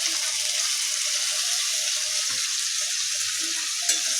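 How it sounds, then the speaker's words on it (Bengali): Ground spice paste goes into potatoes frying in a pan, giving a steady hissing sizzle with soft scraping and stirring strokes scattered throughout, with no one talking. "আমি এর মধ্যে মশলাটা দিয়ে দেবো"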